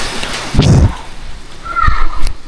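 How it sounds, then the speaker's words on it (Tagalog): Heavy rain from a typhoon falls in a broadband wash with a couple of louder bursts close by, steady and noisy throughout with no clear talk. "Umulan naman, malakas naman ang ulan."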